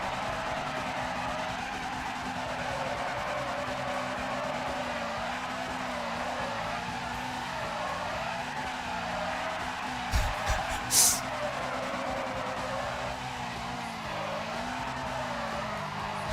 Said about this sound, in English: What if I use the handbrake? This is now handbrake full on.